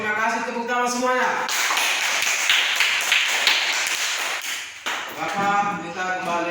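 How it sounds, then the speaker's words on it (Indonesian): A class of schoolchildren clapping hands in a classroom, a dense burst of quick claps lasting several seconds, with voices talking before and after. "Oke, terima kasih, tepuk tangan semuanya."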